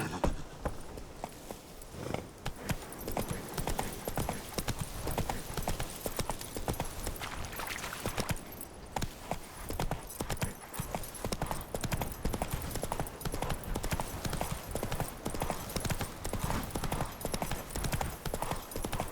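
Horse hooves clip-clop rapidly and steadily at a gallop in The Witcher 3 game, a dense, continuous pounding rhythm close up throughout.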